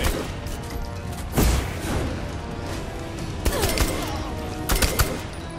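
Gunfire in Saints Row The Third Remastered: scattered sharp shots and short bursts crack irregularly over a steady game background, with a few heavier impacts standing out.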